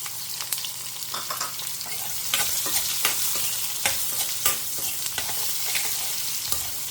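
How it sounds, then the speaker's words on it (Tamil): Mustard seeds, fenugreek and shallots sizzle and pop steadily in hot oil, with stirring sounds and sharp crackles over a continuous frying hiss. "பொரியட்டும் கடுகு வெந்தயம் நல்லா பொரிய ஆரம்பிச்சிருத்தோம் சின்ன வெங்காயம்"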